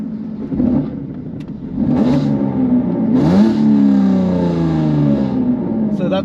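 A manual Jaguar F-Type with a valved exhaust starts and revs, the engine note swelling into a loud rising rev and then settling into a throaty idle, heard close with brief talk around it.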